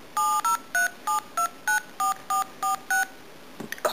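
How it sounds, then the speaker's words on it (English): Eleven evenly spaced dialing tones from an iPhone keypad ring out clearly as a number is entered to call another phone, followed by a brief clatter of handling at the end; no talking. "I will go to phone, and I will call this phone right here"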